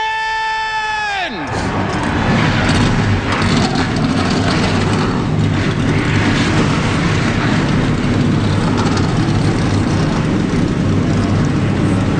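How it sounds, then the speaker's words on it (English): Stock car engines fire up in the NASCAR Racing 2003 game after a starting command, a dense, loud, steady low rumble of a full field idling that continues throughout after a short tonal fanfare at the start. "Drivers, start your engines!"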